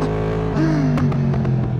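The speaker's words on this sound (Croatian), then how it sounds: "Ali zvuk je brutalan. To su ta redna 4 cilindra, crossplane, znači iz Yamaha R1." A Yamaha MT-10 SP with its crossplane inline-four engine from the R1 drones loudly and close, its pitch briefly rising and settling as the rider rolls the throttle, with wind buffeting over it.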